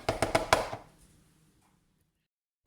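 Knife chopping potatoes into chips on a board: about five quick, loud, even chops in the first second, then a fading tail into silence, with a faint knock at the end.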